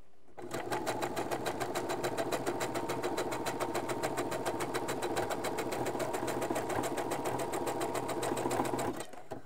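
A sewing machine stitches elastic onto menstrual underwear, a fast, even mechanical rattle that starts after half a second, runs steadily and up close for about nine seconds, then stops abruptly.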